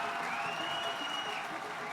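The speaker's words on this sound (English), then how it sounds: "As we enter the city of Ur, a large crowd of people welcome us as heroes with cries of joy" Applause and cheering from a welcoming crowd in the city of Ur in the strategy game Highfleet form a continuous, faint, distant wash of clapping throughout.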